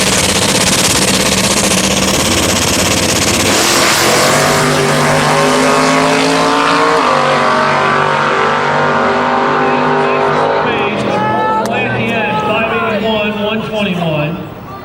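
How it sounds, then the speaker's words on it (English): Drag race cars, a turbocharged LS and a nitrous LS in an eighth-mile heads-up race, roar loudly as they launch, engines screaming and rising in pitch, with announcer commentary over the din. "In the right lane, we have Corey with his turbo LS combination, and in the left lane, we have John with an LS on nitrous combination"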